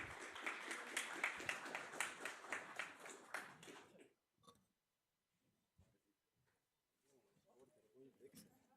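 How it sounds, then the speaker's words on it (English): Audience applause at a university game jam as a team is called to the stage, a burst of dense clapping for about four seconds that cuts off abruptly, followed by near silence and then faint speech. "Applause"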